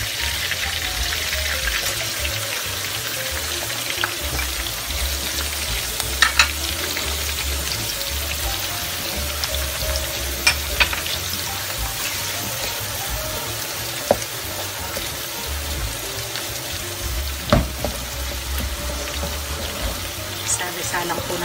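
Onion and garlic go into a pan where carrots are already frying, giving a steady, fairly loud sizzle with occasional soft stirring clicks throughout.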